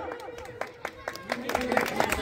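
Audience clapping at a student stage performance in a school, irregular claps building toward the end, heard under a speaking voice throughout.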